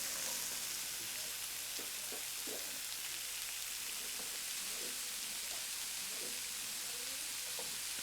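Shallots fry in a pan with meat juices, giving a steady, soft sizzle with faint crackles and occasional light scraping, continuous and fairly quiet throughout.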